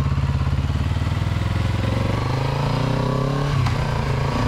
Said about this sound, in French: qu'est-ce que j'aime tourner à basse vitesse avec cette moto